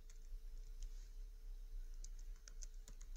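Quiet, quick keystrokes tap on a computer keyboard while code is typed, coming in uneven bursts of clicks over a low background hum.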